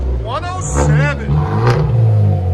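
A 2014 Hyundai Genesis Turbo with a straight-pipe dual exhaust is revved close by, a deep rumbling engine swelling and falling under steady talk from people nearby.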